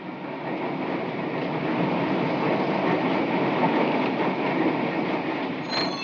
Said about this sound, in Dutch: Buiten de bebouwde kom van Utrecht kan de Siemens-controller in de hoogste rijstand geschakeld worden.